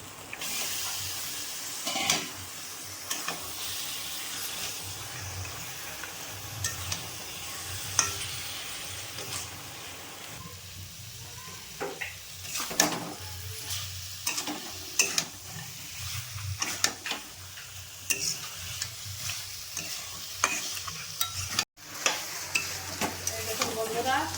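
Chicken pieces rubbed with salt and turmeric frying in a pan of well-cooked spice paste for a Bengali chicken curry with taro, a close steady sizzle broken by repeated scraping and clattering stirs, with no talk over it.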